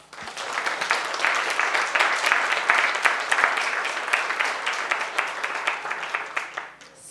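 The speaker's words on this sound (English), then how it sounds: "Let's give ourselves a round of applause." A crowd at an organisation's 45th anniversary celebration breaks into applause, crisp individual claps building quickly into a lively, sustained round that thins and dies away near the end.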